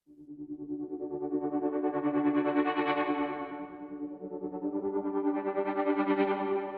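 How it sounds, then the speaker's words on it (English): A Mellotron plays a blended three-violin and boys choir sound as two long sustained swelling chords, soloed, with a filtered, pulsing effect. "this Mellotron, so I blended a 3 violin setting and a boys choir setting together"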